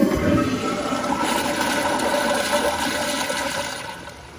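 Kohler Kingston wall-mount toilet flushing on a 1.6 gallon setup, a loud close rush of water that swirls steadily and tapers off toward the end.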